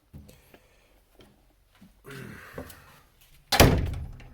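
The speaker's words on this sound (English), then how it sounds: "You can just slam it shut any old time you like." A door hung on 3D printed hardware slams shut with one loud, close thud near the end, after quieter handling sounds and light knocks.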